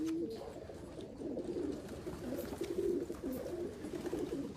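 Racing pigeons cooing steadily in a loft, a low continuous warble of several birds close by, with no voices over it.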